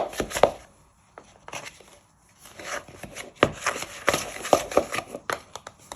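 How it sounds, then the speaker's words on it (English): Sugar and butter are beaten together by hand in a bowl, giving irregular close knocking and scraping strokes with short pauses between bursts. "you're just beating your sugar and butter to a cream texture"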